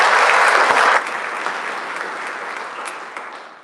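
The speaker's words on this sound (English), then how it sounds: "So I'd like to give them a round of applause." A round of applause for school counselors and a scholarship committee at a Richland School District event, steady dense clapping from a room full of people that is loudest for the first second, then fades gradually, with no talk.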